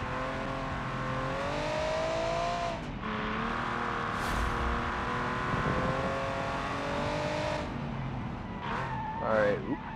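A car accelerates hard in the driving game BeamNG, with a revving engine whose pitch rises and climbs through gear changes, loud and continuous, while a person talks over it.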